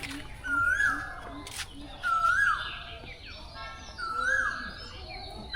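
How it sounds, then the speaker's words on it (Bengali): Village birds call in a quiet rural garden beside a pond, with a koel among them; a clear whistled call repeats three times at an even pace over soft background chirps. "কত পাখির ডাক, কোকিলের ডাক।"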